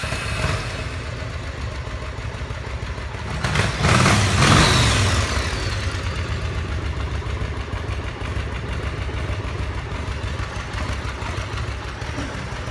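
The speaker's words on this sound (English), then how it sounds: "We are going to start this bike up though and walk around it as it idles" A 2000 Yamaha Road Star Silverado motorcycle engine idles with a steady low rumble, briefly revving louder for a moment before settling back to its even idle.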